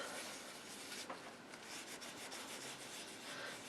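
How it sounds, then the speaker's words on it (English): Soft cloth or tissue wiping and buffing ink off the raised embossing of a stamped card, a steady faint rubbing hiss with soft repeated strokes, close and alone. "now I'm going to come in with a soft cloth or tissue and I'm going to wipe on top of that"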